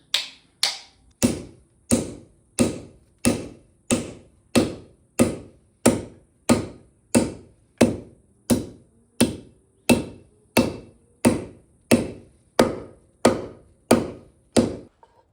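Steady, evenly spaced hammer blows drive a wooden wedge into an axe head, roughly one strike per second for about fifteen seconds, each a sharp close knock with a short ring and no voices.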